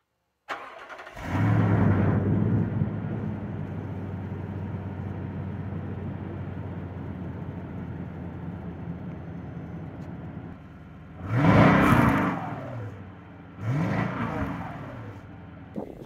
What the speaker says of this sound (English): I'm going to give you what a cold start looks like,